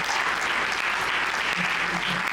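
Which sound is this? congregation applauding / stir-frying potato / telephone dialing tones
congregation applauding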